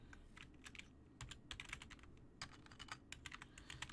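Fingers type on a new computer keyboard, producing quiet, rapid, uneven clicks and clacks close to the microphone in short flurries, with no speech.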